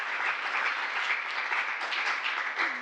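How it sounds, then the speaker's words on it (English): Steady, dense applause from an audience at a press event fills the whole stretch, a continuous wash of many hands clapping at even loudness without a break. "I'm sure you're clapping because I finally showed up."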